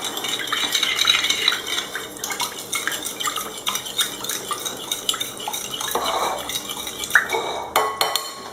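Quiche batter being mixed with a utensil in a bowl, a rapid, continuous clatter of metal scraping and tapping against the sides, close and fairly loud, with no speech.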